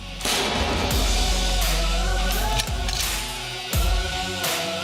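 Weapons fire during live-fire training of new recruits of Ukraine's 42nd Mechanized Brigade: several loud, booming shots a second or so apart, each with a rolling echo, and no voices.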